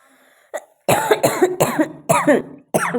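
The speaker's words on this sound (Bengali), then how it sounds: "প্রচুর কাশি হয়েছে" A sick person coughs up close: one short hack, then a run of four or five harsh, chesty coughs in quick succession with brief pauses between them.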